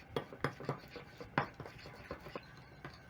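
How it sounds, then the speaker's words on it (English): Spices and oil being mixed into a marinade paste for fish, a utensil scraping and tapping against a bowl in irregular close strokes with sharp clinks, fairly quiet, no talking. "Mix all the spices together with the oil. This is going to make a very nice paste."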